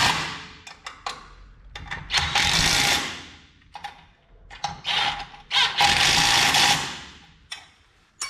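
A power tool tightens front suspension bolts on a Crown Vic swap front suspension kit, in two loud clusters of rapid rattling bursts separated by quieter pauses.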